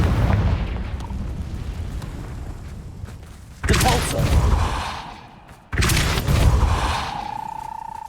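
Two Confringo spell explosions in Hogwarts Legacy, each a sudden loud blast followed by a rumbling, fading tail, spaced about two seconds apart over game background noise.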